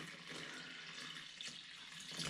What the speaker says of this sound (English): I'm gonna add this cold water into here